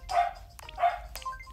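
Two sharp barks from a dog somewhere in the house, a short pause between them, fairly clear and alone.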